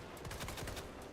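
Quiet, rapid gunshots in the video game Resident Evil 2, a short run of repeated shots sounding faint and somewhat distant.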